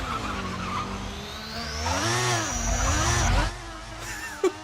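F1 2014 video game Formula One car with a turbocharged engine, a loud, close engine note that drops, surges back up with whining turbo and tire-squeal tones, then cuts off, ending in a short sharp click.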